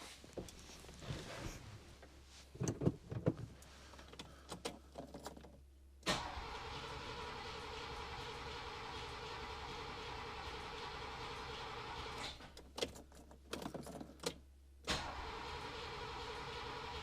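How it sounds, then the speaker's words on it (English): An engine on the Red Pig cranks and catches after a temporary ignition wire hookup, then settles into a steady, fairly loud running drone with a few bursts of revving and clatter, and no talk over it. "we will try to start it and see if it runs correctly"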